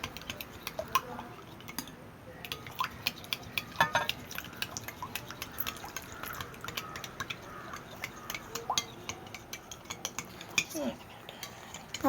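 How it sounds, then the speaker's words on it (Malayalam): Milk and eggs whisked together in a bowl for caramel pudding, a quick run of metallic spoon clinks and scrapes against the dish, fairly close and continuous, with no voices. "ഇത് ഒഴിച്ചിട്ട് നന്നായിട്ട് മിക്സ് ചെയ്യണം കേട്ടോ."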